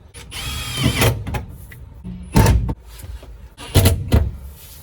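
A power driver runs 16mm button head screws through wall panels inside a Mitsubishi Express short-wheelbase van, several short whirring bursts with clicks and knocks between them, close and loud.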